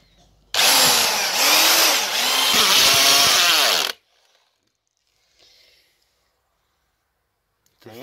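A weak electric drill with worn gears whirs loudly for about three seconds with a rising and falling motor pitch, then stops, leaving near silence with a faint click.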